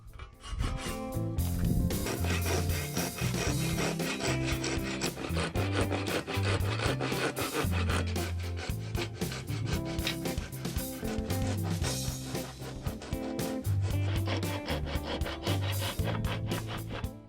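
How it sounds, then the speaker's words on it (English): Japanese-style pull saw with a small blade cutting wood for kitchen cabinets in a barn conversion, a continuous fast rasping stroke rhythm, loud and close, with no talk. "start it with this guy, also a pull saw, just a different style, and it's just a smaller blade, which means it's more accurate"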